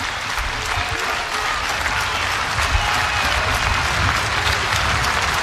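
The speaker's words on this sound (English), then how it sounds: "And here comes the crowd." A college baseball crowd at a South Dakota State versus Nebraska game cheers and applauds, a dense, steady wash of clapping and roaring voices that holds loud throughout.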